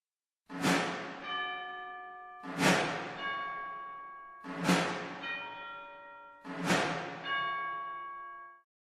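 Four evenly spaced bell strikes ring out, each a bright metallic clang with a long shimmering decay, clear and close with nothing else around.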